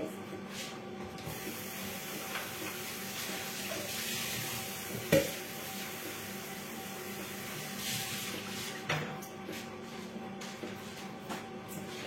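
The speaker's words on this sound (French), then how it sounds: "je vais juste rincer mon bol" A mixing bowl being rinsed under a kitchen tap: a steady, fairly quiet wash of running water with a few louder splashes and knocks from the bowl, and no talking.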